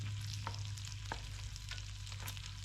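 Bacon renders in a frying pan with a steady, close sizzle and crackle, with a few sharper pops over a low constant hum.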